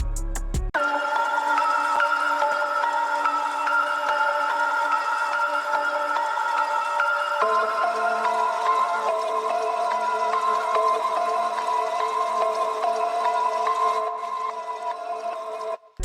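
A bell-toned synth melody in FL Studio rings out in steady, sustained notes that shift pitch partway through, playing continuously and clearly with no voices.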